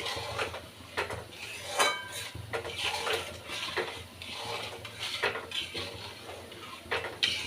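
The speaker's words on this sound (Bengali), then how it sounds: "সুজিটা দিয়ে আস্তে আস্তে আমি নাড়তে থাকবো।" A spoon stirs semolina into water in a cooking pot, making quiet, irregular scrapes and clinks of metal against the pot at close range, with no talking.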